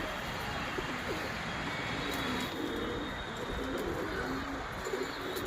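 Pigeons in a loft give soft repeated cooing calls, several overlapping throaty coos over a quiet, steady background hiss.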